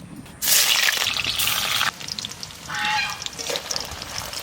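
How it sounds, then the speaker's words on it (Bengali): Chital fish muitha dumplings go into hot white oil in a wok and set off a loud burst of sizzling that abruptly drops, then keeps crackling and bubbling in uneven waves, close and with no one talking. "মুইঠাগুলো ভাজার জন্য আমি সাদা তেল দিয়ে দিচ্ছি কড়াইতে।"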